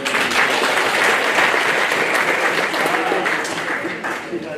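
Sustained round of applause from a conference audience for a speaker, dense even clapping holding strong for several seconds before easing slightly at the end, with talk faintly underneath.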